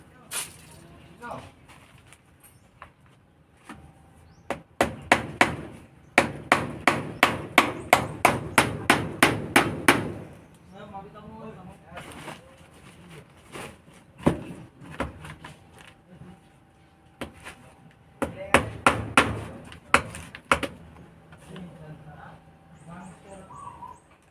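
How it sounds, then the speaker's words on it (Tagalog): Hammer driving a nail into a chicken nest made from an empty cement bag, heard as a rapid run of a dozen sharp blows, a pause with talk, then another burst of strikes, with birds cooing faintly behind. "Isang pako lang ilalagay natin dyan, matibay na"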